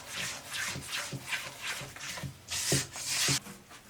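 Besan flour mixture for ladoo stirred around a pan, giving a steady rhythmic scraping and rubbing with repeated strokes, fairly soft and close, with no voices.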